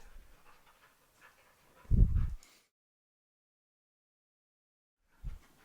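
Two dogs, Gravy and Peach, pant and scuffle while wrestling indoors; a close burst of rapid breathy panting and movement, then silence, then a brief second huff near the end.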